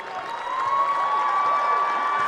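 Caribou home crowd applauding as the clock expires at the end of a Class B girls basketball quarterfinal against Foxcroft, a steady broad wash of clapping and cheering rising slightly and holding throughout.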